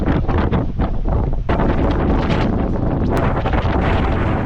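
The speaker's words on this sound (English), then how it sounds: "It's a blizzard." Strong blizzard wind gusting around 50 mph across a snow-buried winter camp, a loud continuous roar with buffeting against the microphone and no speech.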